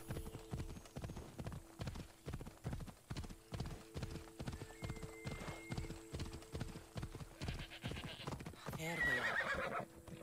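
A horse in Assassin's Creed Odyssey trots along with a steady, rhythmic clip-clop of hooves, then gives a loud whinny near the end, with faint game ambience underneath.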